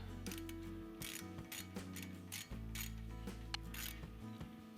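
A ratchet wrench works loose a set screw on a brake rotor of a Jeep Wrangler JL, giving steady close mechanical clicking and grinding over a low continuous hum, with no talk.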